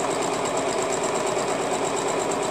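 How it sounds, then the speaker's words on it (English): Sewing machine stitching fabric down to a seam while quilting, a fast, even mechanical whirr with a steady needle rhythm, close and continuous throughout. "we're going to sew it all the way down to the seam"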